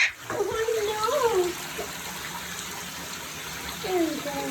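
Running shower water sprays for a green male eclectus parrot, a steady gushing hiss throughout while a person talks over it at the start and again near the end.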